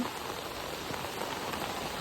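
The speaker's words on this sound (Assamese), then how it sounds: "ইমান বৰষুণ" Heavy rain pours steadily throughout, a dense, even hiss of drops drumming on surfaces close by, with no voices.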